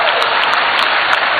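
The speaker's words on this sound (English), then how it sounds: "Yes, I know you are clapping" A crowd clapping at a citizen engagement town hall in Ghana: dense, steady applause filling the room, loud and continuous throughout.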